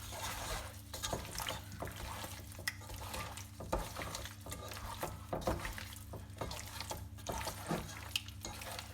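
Chicken tossed with biryani masala in a pot, soft wet stirring and scraping with light clinks of a utensil, close and steady over a low background hum.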